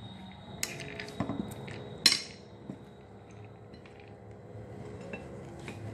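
A spoon clinks and scrapes against a bowl while chana dal salad with cucumber, salt and chaat masala is mixed, a few sharp metallic taps then softer stirring, close but fairly quiet, with no speech.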